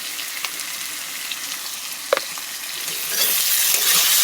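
Fish and green mango being stirred in a hot pan, a steady sizzle with a few clacks of the spoon, and the frying growing louder and brighter near the end.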